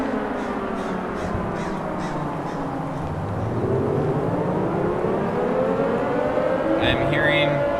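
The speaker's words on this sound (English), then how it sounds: "Nuclear sirens have gone off, and the gate that was previously closed is now opened." Nuclear sirens wailing in the horror video game Liminal City, long rising and falling tones sweeping slowly under a steady ambient drone, with cawing crows early on and a brief higher sound near the end.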